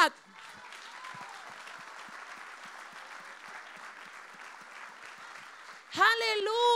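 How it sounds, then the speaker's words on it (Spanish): A church congregation applauds during a Spanish-language sermon, a steady wash of clapping held for several seconds before a woman preacher's voice returns loudly. "Si usted va a aplaudir a Dios"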